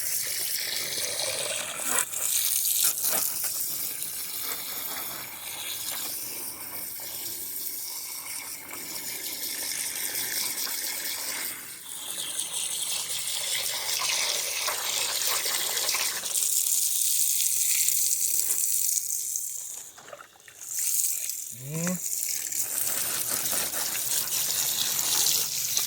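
Water runs steadily from a tap for the whole stretch while orchid seedlings taken from flasks are washed. The flow is close and continuous, with a brief dip near the end and a few small splashes.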